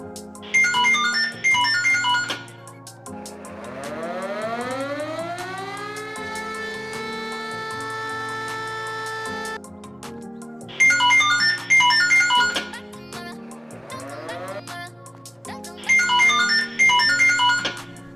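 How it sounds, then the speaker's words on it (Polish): A video game fire siren wails, winds up and holds a long steady tone between bursts of electronic ringing chimes, loud and close, with no talking. "Syrena się zaprezentowała."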